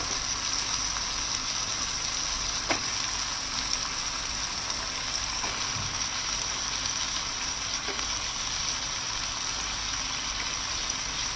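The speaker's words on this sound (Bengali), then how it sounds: "এগুলো দেওয়া শেষ, এখন আমি ভালো করে এগুলো কষিয়ে নিব" Cauliflower stems, potato, eggplant and dried fish curry being sautéed in a pan, a steady, dense sizzle and frying hiss lasting throughout, with a few faint spatula knocks.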